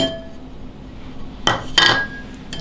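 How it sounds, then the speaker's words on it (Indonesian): A spoon stirs a batter of wheat flour, rice flour, salt and bouillon powder in a bowl, giving two quick, sharp clinks against the bowl over a low, quiet kitchen background. "kita aduk rata"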